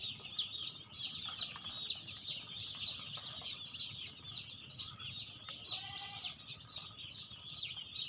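Broiler chicks crowd together in a poultry farm brooding area, a dense, continuous chorus of high peeping chirps at moderate distance over a low background hum.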